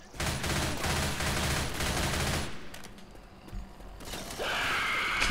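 Rapid gunfire in the video game Left 4 Dead 2, a dense burst of automatic shots for a couple of seconds, then scattered sharper shots and a mechanical clatter before a steady noisy rush returns.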